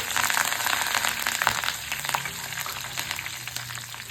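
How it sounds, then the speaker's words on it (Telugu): Loud, continuous sizzling and crackling of curry leaves frying in hot oil for a tempering, close up, with scattered sharp pops. "వేగుతున్నప్పుడు కరివేపాకు కొంచెం తడి ఉన్నా కూడా గమ్మని వేగిపోతుంది, అందుకని ముందు వేసేయాలి. చిటపట్లాడుతుంది."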